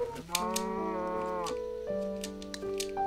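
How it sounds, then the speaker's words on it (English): A Minecraft cow's low, drawn-out moo, the in-game death sound, plays loud and close for about three seconds with a steady harmonic drone, with no talking. "you make your cow death rattle sound"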